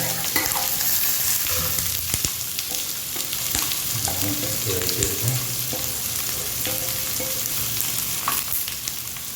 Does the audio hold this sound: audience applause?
no